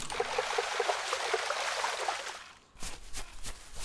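Water trickles and pours steadily while being collected in the video game Travellers Rest, followed by a few short splashy sounds after a brief pause.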